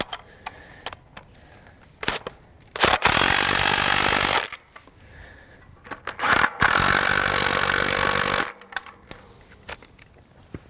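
A power tool tightening fence bolts on a pasture fence, heard as two loud, sustained whirring bursts of a few seconds each, close by, with metallic clicks and handling noises before, between and after them.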